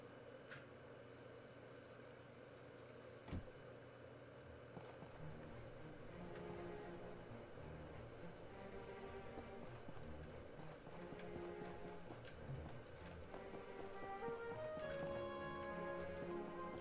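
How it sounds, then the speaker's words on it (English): Steady rain patters in the background with a soft, continuous hiss, joined by faint melodic tones and occasional light knocks, in the video game My Time At Portia. "Tis raining outside."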